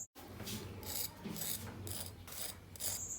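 Crispy fried chicken shami kebab being broken apart by hand, giving a close series of dry crackling crunches and rasping bursts in several quick pulses with no talking.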